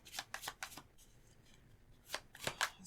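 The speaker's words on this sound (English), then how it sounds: "I feel like I might need to pull some more cards." Tarot cards shuffled by hand, close and soft: a few quick riffling swishes, a short pause, then more brisk shuffles. No one speaks.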